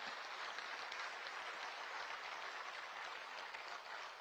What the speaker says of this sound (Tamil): கைத்தட்டல்கள் மூலம் நம் வாழ்த்துக்களை தெரிவித்துக் கொள்ளலாம்